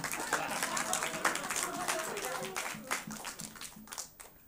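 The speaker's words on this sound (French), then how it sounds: "Je pense que vous n'avez pas assez applaudi pour cette magnifique présentation." Audience clapping at the end of a presentation at a church youth group gathering, a dense patter of hand claps that swells and then thins, with murmuring voices mixed underneath.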